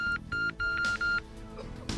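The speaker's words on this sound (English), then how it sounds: "You can hear the beep there." Four short, clear electronic beeps from a hang glider's altimeter sound in quick succession, followed by faint background noise.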